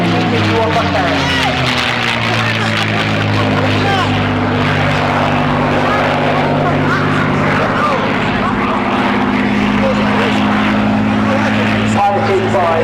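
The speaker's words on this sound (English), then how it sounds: "Oh, it's right, here we go, that's P51 Mustang." A P-51 Mustang piston-engine warbird flies past at a Southport air show, its propeller drone loud, steady and continuous throughout, with a commentator speaking over it.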